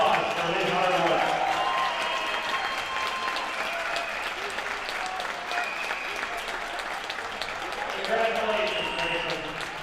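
A crowd claps steadily and continuously for a high school boys basketball player reaching 1,000 career points during an Altoona at Medford game, with faint voices underneath and the applause swelling slightly near the end.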